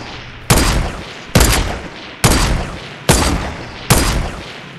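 Fortnite gunfire rings out as five loud, sharp shots spaced roughly a second apart, each with a punchy crack and a decaying echo tail, close and alone with no talk.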